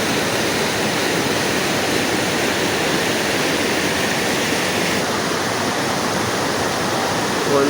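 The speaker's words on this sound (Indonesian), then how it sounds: "Ini air yang masuk di sela-sela bebatuan, airnya deras nih di bawah ini. Arusnya kencang." Fast-flowing water rushes between rocks at Curug Leuwi Tonjong waterfall, a loud, steady, unbroken roar filling the whole clip at close range.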